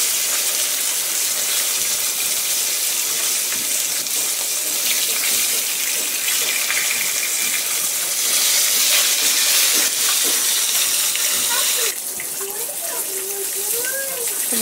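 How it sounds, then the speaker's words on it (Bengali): Fish frying in hot oil gives a steady, loud sizzling hiss throughout, and a voice briefly cuts in near the end. "মাছটাকে আমরা গরম তেলের ভিতর দিয়ে দিয়েছি।"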